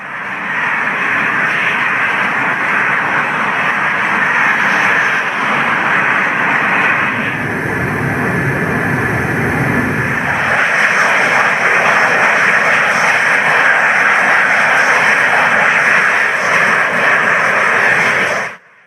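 Spanish Eurofighter jets fly in Arma 3 with a loud, continuous engine roar. It holds steady, swells and changes tone midway, then cuts off abruptly at the end, with no voices.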